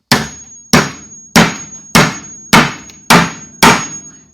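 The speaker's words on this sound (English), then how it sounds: "if I take a hammer right here, I've really just welded away on it" A hammer strikes a Stanley Fatmax 1-inch folding chisel seven times in an even rhythm, each blow a sharp, loud, ringing metallic crack that decays quickly, close up with no talk.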